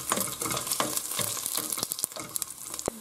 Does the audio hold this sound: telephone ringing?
no